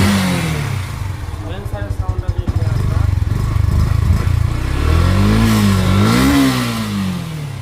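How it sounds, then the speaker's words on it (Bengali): A Yamaha FZS version 2 motorcycle engine runs close up, chugging with rhythmic pulses, then revving in rising and falling pitch sweeps, loud and continuous. "ইঞ্জিন সাউন্ড শুনে"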